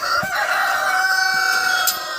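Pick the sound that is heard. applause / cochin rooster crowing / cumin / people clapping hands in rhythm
cochin rooster crowing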